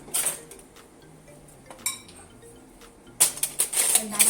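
Metal fork scraping sticky honey off a spoon while baking fruity jammy heart biscuits, producing light clinking, tapping scrapes up close, with a brief pause in the middle and a burst of busier clatter near the end.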